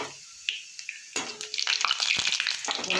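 Dry red chilli and black cumin hit hot oil in a pan for a Bengali cauliflower-stalk dish, a few sharp crackles first, then a busy burst of sizzling and popping that spreads and stays lively.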